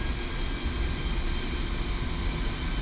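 Steady low rumble of an aircraft taxiing on the ground in the DCS Digital Combat Simulator flight game, a constant engine drone with broadband hiss and no clear changes.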